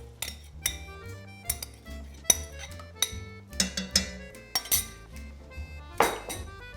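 Tomato paste and passata ragu for classic lasagne being stirred in a pot, a spoon clinking and scraping against the metal in repeated sharp knocks and rattles, close and fairly loud, with no talk.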